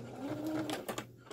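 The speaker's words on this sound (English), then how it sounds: "All right, so we're gonna start with our back stitches." A sewing machine with a ballpoint needle starts back stitches on leggings fabric, a brief close whirring run of rapid stitches with a soft motor hum and a few mechanical clicks.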